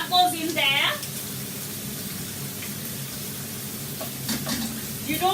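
Onion pieces fry in melted butter in a pan while preparing grilled steak and pork, giving a soft, steady sizzle with a brief clatter near the start and faint voice-like sounds in the background.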